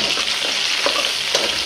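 Fresh shrimp frying in hot oil over a high gas flame give off a steady, close crackling sizzle with brief brighter pops, continuous throughout and with no talking.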